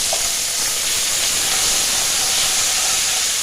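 Garlic paste sizzles in hot oil in a pan alongside a bay leaf, dried red chillies and chopped green chillies for a Bengali chicken curry, a loud, steady, close frying hiss that fills the whole moment without talk.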